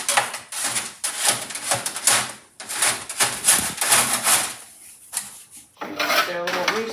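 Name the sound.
scraping stuck droppings off quail pen mesh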